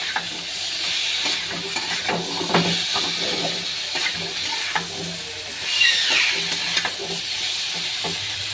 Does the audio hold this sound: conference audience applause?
no